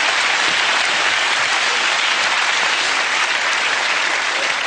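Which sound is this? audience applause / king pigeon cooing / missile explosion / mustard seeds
audience applause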